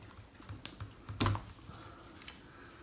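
Old, dusty keyboard keycaps are handled on a table, giving a few scattered plastic clicks and rattles, quiet and close, with pauses between them.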